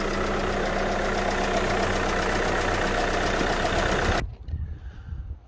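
A VW Crafter van's engine idles after its cooling system has been refilled, holding a steady, loud mechanical hum for about four seconds before cutting off abruptly to quiet.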